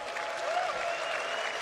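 Enthusiastic hand clapping from a livestream host during a Star Citizen convention broadcast, a steady dense patter of claps sustained throughout, close and fairly loud with no talk over it.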